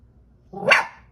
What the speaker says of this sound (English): you're not allowed to talk to the neighborhood dogs.